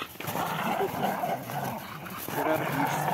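Two dogs play roughly together, one slipping from play into real aggression, with dense yips, whimpers, growls and barks close by, and some human voice mixed in underneath.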